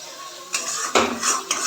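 A lid is set onto a pan of thin katla fish curry, making clanging metal knocks and rattles that come in a few loud bursts close by, with no talk.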